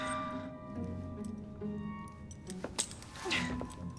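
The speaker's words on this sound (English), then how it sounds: "Now hand over your keys." A bunch of keys jingles in brief metallic clinks as it is handed over in Assassin's Creed Syndicate, the light rattle rising near the end over a low game ambience.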